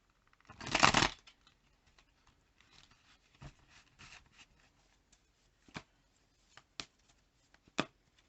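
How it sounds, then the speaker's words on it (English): A quick riffle of tarot cards being shuffled, followed by a few soft, scattered taps and flicks in a quiet room. "Let's shuffle again."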